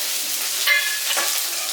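Curry leaves dropped into hot oil crackle in a short, close burst of sizzling spatter, alone with no talk.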